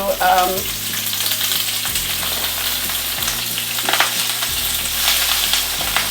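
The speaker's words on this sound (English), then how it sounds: "we have a little bit of olive oil in the bottom. Now spinach gets down to nothing" Spinach frying in a little olive oil in a large pan, a loud steady sizzle with stirring noises, running alone throughout.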